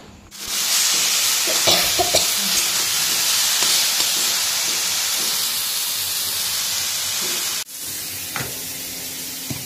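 Potatoes and okra fry in hot oil with a loud, steady sizzle and hiss, broken by occasional stirring clinks and a brief dip before the sizzling resumes.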